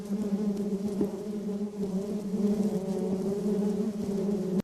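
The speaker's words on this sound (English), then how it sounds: "Oh, bees!" A steady, droning buzz of bees in the video game Dinosaur Kingdom 2 hums continuously, fairly close and even in loudness, with no talking.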